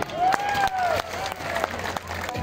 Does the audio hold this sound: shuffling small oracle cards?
no